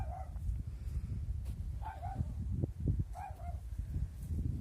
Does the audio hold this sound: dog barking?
yes